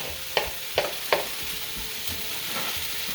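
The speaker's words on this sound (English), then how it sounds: "Carrots are cooking. I'm going to go ahead and push those to the side." A spoon knocks three times against a pan while carrots are pushed aside, over a constant low sizzle that carries on alone with faint scraping afterward.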